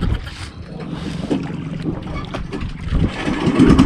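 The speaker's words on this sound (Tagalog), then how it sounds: "Yan, ay na umandar na ating bangka." A motorized fishing boat engine runs on a lake under wind noise, a steady low rumble that swells toward the end as the boat heads out onto growing waves.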